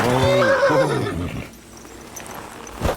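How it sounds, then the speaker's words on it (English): A black horse lets out a loud, close whinny that rises and trails off, followed by a few hoof sounds and quiet ambience, at an abandoned camp in a medieval video game. "Um cavalo preto ali, ó."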